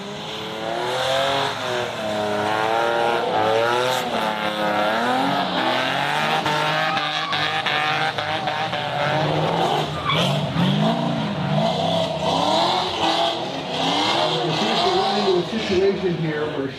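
Drift cars at a Southern Roots Drifting event on the plains roar and rev hard, with tires squealing as one spins on initiation, engine pitch rising and falling constantly beneath a commentator talking over the action.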